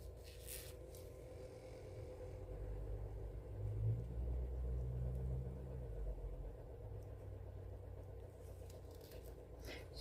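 A mail carrier's vehicle passes outside, heard from indoors as a faint, low engine rumble that swells in the middle and then fades back into a steady hum.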